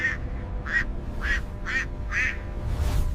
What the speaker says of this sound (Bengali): আহা! কি বড় হাঁস!